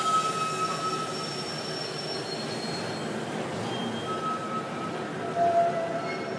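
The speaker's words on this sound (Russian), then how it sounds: "ретро-техники, ретро-трамваев" Vintage trams in an annual tram parade roll along rails with a steady rumble, their wheels squealing in long, high whines that come and go.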